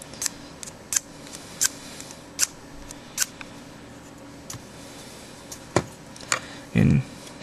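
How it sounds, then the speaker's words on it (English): An X-Acto blade scrapes along the surface of a scale model in a series of short, sharp, close strokes with pauses between them, followed by a brief low thump. "run the side of your X-Acto blade along, and that will generally take out a lot of"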